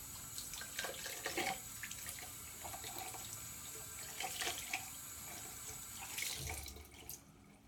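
Water running from a bathroom tap into a sink while a face mask is rinsed off, a steady close splashing with uneven hand-splash bursts, quiet, with no talking.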